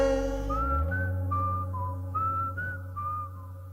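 Whistled melody during a live song performance, a series of clear sliding and held notes over a sustained low instrumental drone, close and moderately loud with no talking.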